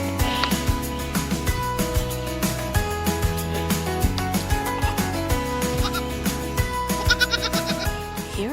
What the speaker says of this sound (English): This play is most often seen among the young, like these baby goats.